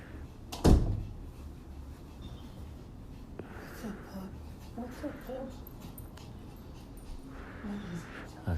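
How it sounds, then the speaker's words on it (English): A small dog named Sophie whimpers and yips softly in short bursts indoors by a balcony door, following a sharp knock near the start, with people talking quietly in the background. "That's Mike's dog."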